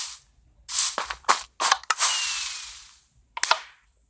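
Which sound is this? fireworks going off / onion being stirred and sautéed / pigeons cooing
fireworks going off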